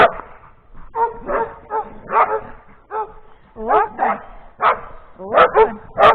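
Several dogs bark and yip excitedly in quick bursts in spring woods, fairly close, with some whimpering mixed in.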